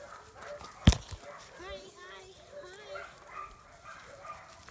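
A small long-haired white male Chihuahua at a rescue gives a single sharp, close bark, followed by faint whimpers and yips, while people talk in the background.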